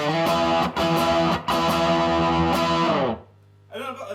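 An electric guitar plays through an amplifier's overdrive channel: thick, gritty chords ring out in a few choppy strums, then stop and fade before a short, quieter phrase.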